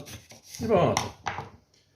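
Knife thinly slicing onion on a cutting board, a few quick close chops and cuts clustered together, crisp and fairly loud, with no talking.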